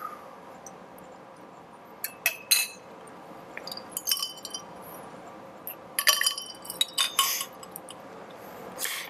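Glass test tubes of water being stirred, a run of light, bright clinks and taps in irregular clusters over a quiet background.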